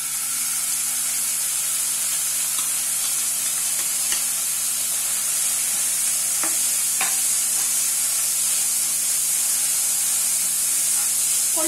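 Horse gram sizzles in a pan with a loud, continuous hiss and occasional scraping stirs of a spatula, close up and with no talk.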